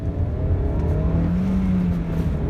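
A top-of-the-line petrol car accelerating hard on a test drive, with a steady, loud engine drone rising slightly in pitch, close and continuous without talk.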